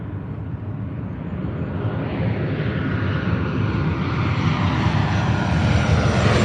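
An Alaska Airlines Boeing 737-900ER arriving at Los Angeles International Airport roars overhead, its jet engine rumble building steadily louder and closer over several seconds, heard alone without talking.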